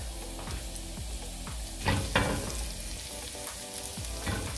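Butter melting and sizzling in a hot pan for Vietnamese shaken beef, a dense continuous crackling fry with a few sharper spits and stirring scrapes, close and steady.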